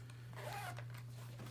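A zipper slides along a pouch on the lid of a fishing backpack, a soft, quiet rasping pull heard close up over a steady low electrical hum.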